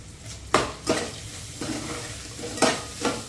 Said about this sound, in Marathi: भाजी आता हांव तळसून मिक्स करून घेता